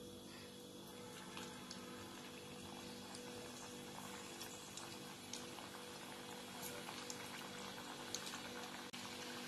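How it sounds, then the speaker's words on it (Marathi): Wheat flour khari frying in hot oil in a kadhai, a steady faint sizzling hiss with tiny crackles, continuous and even throughout without speech. "आता मी या खारी तळून घेते."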